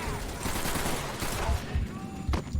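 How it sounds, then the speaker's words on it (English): A barrel blowing up in the video game Call of Duty 3, a close, loud burst with low booms at intervals amid continuous gunfire and battle noise. "That will be an exploding barrel"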